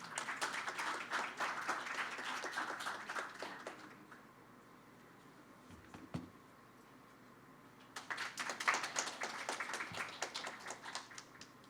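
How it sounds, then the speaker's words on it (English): Audience applause greets a speaker at a symposium, with two bursts of steady clapping from a room full of guests separated by a short quiet pause. "Please welcome him with a big round of applause."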